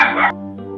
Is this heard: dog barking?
yes